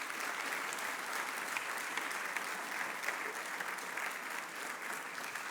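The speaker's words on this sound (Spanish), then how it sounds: "Dele un aplauso gigantesco a Dios, por favor." A congregation at a church service applauds steadily throughout, a dense, even wash of many hands clapping at a constant level with no pauses.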